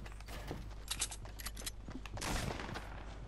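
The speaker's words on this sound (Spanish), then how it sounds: "¿Me ha pegado alguien un escopetazo por detrás?" Rapid gunfire from Fortnite Battle Royale, clustered cracks and bursts with a few heavier shotgun-like blasts, fairly quiet and continuous over several seconds with no talking.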